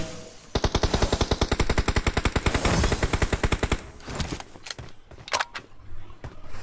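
Rapid automatic gunfire in a shooter video game rattles off in a long fast burst, loud and close, followed by a few scattered single shots and clicks.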